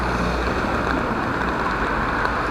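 Rain falls on a rainy day in Madeira near a shop in the mountains, a dense, even hiss of drops on surfaces that continues steadily and fairly loud throughout.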